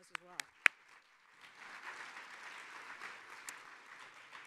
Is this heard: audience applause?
yes